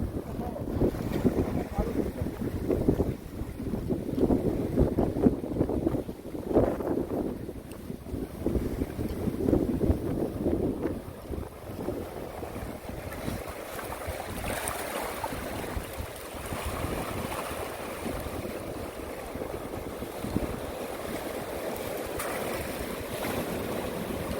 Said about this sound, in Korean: 바람이 좀 많이 불고요. 파도는 조금 높은 편입니다.